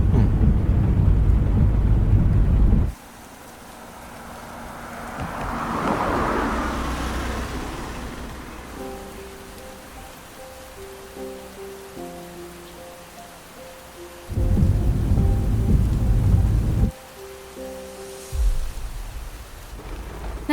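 Heavy rain roars in loud bursts that cut in and out, with a deep rolling rumble of thunder in between and faint melodic tones underneath.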